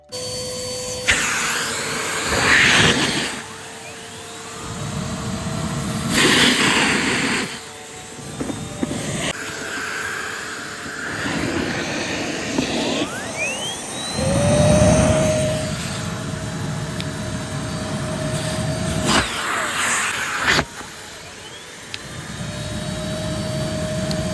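A Numatic NBV190 vacuum cleaner, found in a skip, with a motor that spins backwards: a loud whining roar switches on and off in bursts, with the pitch shifting between runs and no talking.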